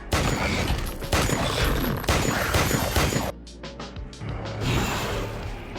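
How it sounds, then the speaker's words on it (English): Rapid gunfire rattles in a dense, loud burst for about three seconds, then gives way to quieter scattered clicks and mechanical knocks. "Without hesitation, she fired a burst."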